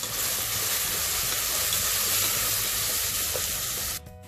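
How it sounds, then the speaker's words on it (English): Masala spices sautéing in a pan for a cabbage and potato dish, a steady broad sizzling hiss that holds close and even for about four seconds, then drops away abruptly. "So now I'll add all my masalas and saute it for 1 minute."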